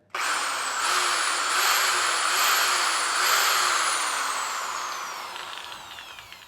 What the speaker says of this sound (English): With my sanding dowel.